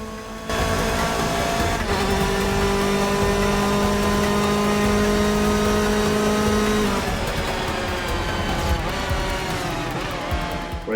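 Race car engine in Forza Motorsport 6 on Xbox One, a loud sustained whining drone as the car plunges down through Eau Rouge, its pitch holding high before shifting partway through.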